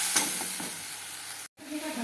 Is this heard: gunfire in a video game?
no